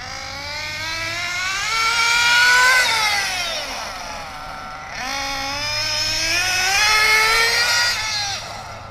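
A model engine being broken in at about three-quarter throttle, buzzing with a high, rising and falling whine as it passes by twice, growing louder then fading, with no talk.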